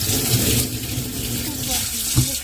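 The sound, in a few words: washing hands under running tap water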